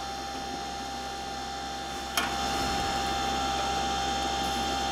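Lathe spinning an acrylic resin pen blank, a steady whirring hum with a faint scraping under it and a brief sharp tick partway through.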